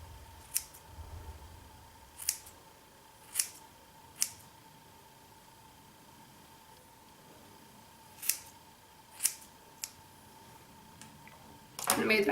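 Scissors snipping across hair to cut short layers in an at-home haircut: about nine crisp, close metallic snips, clustered at first, then a quiet stretch before more cuts, set against a steady faint hum.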